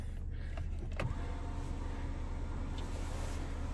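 A power moonroof on a Land Rover Discovery slides along its track with a steady electric motor whir inside the cabin, a short mechanical clunk near the start, and no talking.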